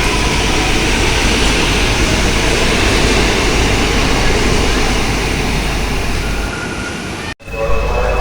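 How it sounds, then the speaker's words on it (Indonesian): A commuter train rolls out of a station on the Tangerang to Gambir line with a loud, steady rumble and rush that holds for several seconds, then drops away after a brief sharp click near the end. "ini keretanya sudah melanjutkan perjalanannya lagi ya teman-teman"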